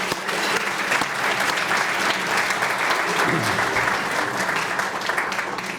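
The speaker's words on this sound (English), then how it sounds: "let's give them a round of applause." Sustained audience applause filling a hall at an education foundation hall of fame awards evening, steady and dense for several seconds with no pauses.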